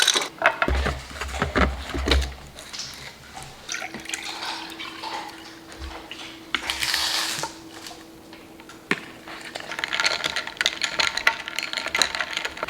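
Coffee being made at home: liquid pours and drips, with small clinks and knocks of cups and utensils, close and fairly loud, with no talking.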